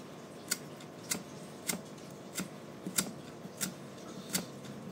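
Knife slicing through a radish for mulor jali bhaja, cutting the opposite side to form a lattice of gaps: seven or eight crisp, sharp clicks at a steady rhythm, close by, with no voices.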